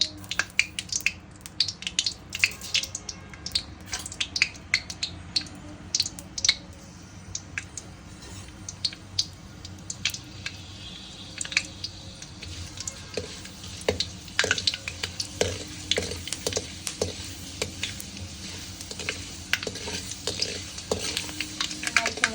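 Fenugreek seeds frying in a little sunflower oil in a pan: a steady run of small crackles and sharp pops, coming thicker toward the end, close by and with no talk over them.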